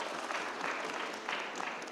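Applause from a young women's leadership assembly, faint and distant, a soft continuous patter with small swells.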